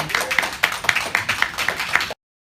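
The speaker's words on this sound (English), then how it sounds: "Let's give a round of applause" An audience at a talk on feminine awareness claps in quick, bright, irregular bursts that sound close and lively, then stop abruptly.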